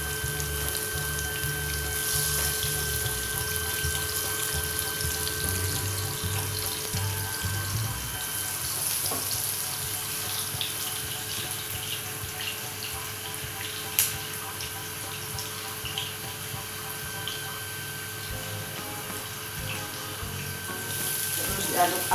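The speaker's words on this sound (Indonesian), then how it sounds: "Terus diaduk-aduk sampai kuning kecoklatan ya, sampai harum baunya ibu-ibu." Shallots fry in oil in a pan for a stir-fried bitter melon dish with anchovies and petai, giving a steady sizzle with occasional stirring scrapes and a faint clink or two over about twenty seconds.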